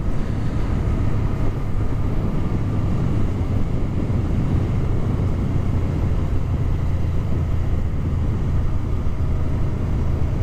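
Suzuki Gladius motorcycle engine running downhill with engine braking on a Tenerife mountain road, a steady loud low drone with constant wind rush throughout, no voices.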